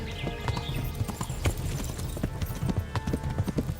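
Horse hooves clip-clop in a video game, a brisk, continuous patter of hoofbeats at moderate loudness with faint background sounds.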